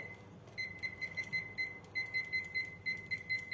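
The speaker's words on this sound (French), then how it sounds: "Je vais juste mettre le minuteur parce que je suis très douée pour oublier." Kitchen timer set for baking macarons in a home kitchen, giving a steady run of short high electronic beeps in a regular rhythm, close and clear over faint room noise.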